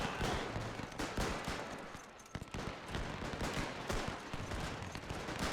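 Rapid gunfire and volleys of shots in a WW1 strategy game as German Empire forces fire on rebels, dense overlapping bursts continuing steadily throughout at a moderate level.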